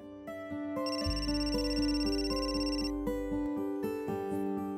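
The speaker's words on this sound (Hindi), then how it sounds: "अरे देखना किसका फोन है?" A telephone rings at home with a melodic electronic ringtone, its repeating chimed tones running steadily for several seconds, close and clear with no voices over it.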